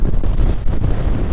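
Strong wind at Mullayanagiri peak buffeting the microphone, a loud low rumbling roar with gusty fluctuations, no other sounds audible.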